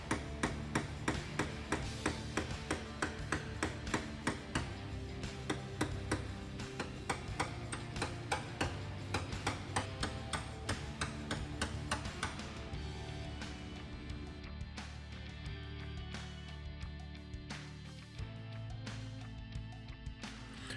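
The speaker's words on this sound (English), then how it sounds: "swinging the hammer, making contact with the top portion of the knockdown" Hammer tapping down high spots on a dented car panel with a knockdown tool: a long run of quick, evenly spaced metallic ticks and taps, close and crisp, continuing steadily with slight changes in tone.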